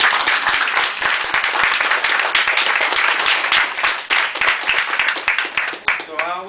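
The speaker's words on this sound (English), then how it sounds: "Let me applaud you" Audience applause for children and their parents at an evening event in St. Louis, a dense continuous clapping that stays loud throughout and thins slightly near the end as a voice begins to speak.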